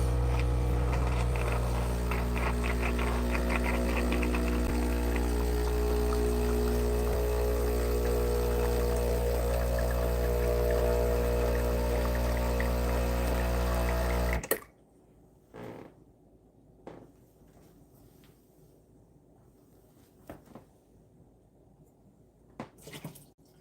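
An espresso machine runs water through its system to warm up, a loud steady pump-like drone with a broad rushing hiss lasting about fourteen seconds, then cutting off abruptly to near silence with a few faint clicks.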